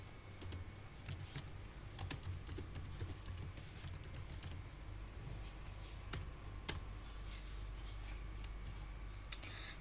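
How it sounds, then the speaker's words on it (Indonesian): Someone types a database command on a computer keyboard, producing a run of light, uneven key clicks and taps over a low steady hum, close and quiet, with no speech. "kita ketik use minimarket."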